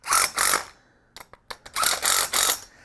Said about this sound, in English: So I'll slide it all the way out and tighten my bolts.